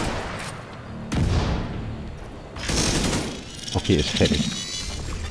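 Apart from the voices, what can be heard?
grenade explosions and gunfire in the video game The Division 2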